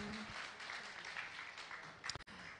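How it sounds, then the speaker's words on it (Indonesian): An audience at a live streaming concert paying tribute to Erros Djarot claps in a steady, moderately loud round of applause that fades out near the end. "Berikan tepuk tangan yang meriah sekali lagi buat kita"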